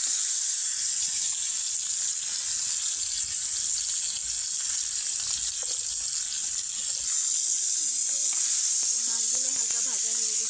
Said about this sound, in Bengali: এক এক করে এভাবে আস্তে আস্তে মাছগুলো তেলের উপর ছেড়ে দিব